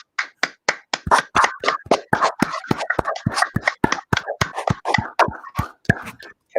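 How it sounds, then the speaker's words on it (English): A single person claps hands on a video call, a run of about two dozen crisp, close claps in an even, slightly uneven rhythm with no talk. "Would it be inappropriate to unmute and clap, or should I mute while I'm clapping?"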